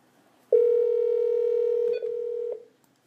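A telephone dial tone heard while placing a call: a steady, clear electronic tone lasting about two seconds, with a brief break and a click near the end, then silence. No voices.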